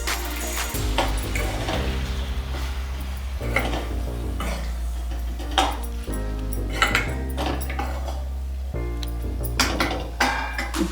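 A spoon stirs Dondakaya Mulakkaya Pulusu, an ivy gourd and drumstick curry with a little fenugreek powder, in a metal pot, giving light scraping and clinking strokes over a steady low kitchen hum, with no talk.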